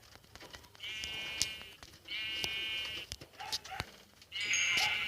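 Gray sheep in Minecraft bleating in repeated wavering cries, three or four calls spread through the clip with short clicks and thuds between them, no talk.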